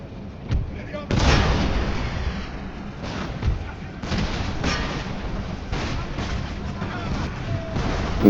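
Artillery units firing in a Total War battle from a Crusader Kings hybrid campaign with Poland-Lithuania, heard as a steady rumble of repeated booms and scattered cracks at middling distance, with a voice talking over it.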